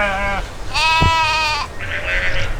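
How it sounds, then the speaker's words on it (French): Sheep bleat close by in a field behind a campsite, several drawn-out wavering calls in quick succession, one overlapping another. "Je dors avec le bêlement des moutons, mais ça me gêne pas."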